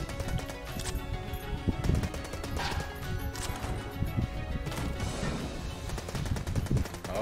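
Rapid gunfire in the video game Enter the Gungeon, a dense stream of quick shots and impacts going nonstop with game music underneath.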